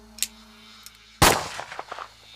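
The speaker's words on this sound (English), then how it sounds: "Welling shot Dr. Hitz dead." A revolver shot in a dramatized reading of a dystopian short story: a few faint clicks, then one sharp, loud gunshot cracking out and echoing briefly before a scatter of smaller knocks, with no voices.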